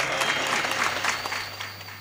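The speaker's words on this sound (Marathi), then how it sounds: "एकदा धनुच्या सिस्टीम साठी टाळ्या वाजवा" An audience at a Marathi kirtan gathering applauds the sound system, a dense, continuous burst of many hands clapping at close range, steady and loud throughout with a low electrical hum beneath.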